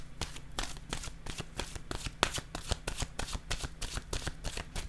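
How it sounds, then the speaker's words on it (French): Oracle cards are shuffled and then set down, giving a rapid run of crisp papery riffles and flicks, close to the mic, loud and steady with no talking. "Je vais déposer maintenant une carte. Attendez. Une carte de mon oracle,"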